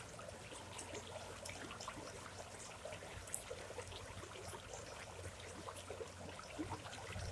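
Faint water trickles and bubbles continuously over a soft background hiss, a gentle flowing creek heard quietly with no voices.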